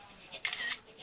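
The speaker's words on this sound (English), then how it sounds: "Let's just take a quick photo here." An iPhone 4S camera shutter fires while a photo is taken: a quick, close double click with a bright, crisp edge, lasting under half a second against a quiet background.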